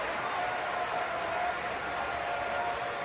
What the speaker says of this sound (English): the crowd getting behind the number 9 hitter